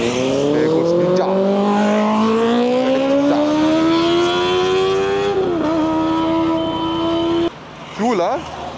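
A Kawasaki Ninja motorcycle passes close by, its loud engine rising steadily in pitch as it rides past, with a brief dip near the end and people talking over it.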